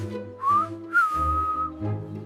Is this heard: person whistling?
yes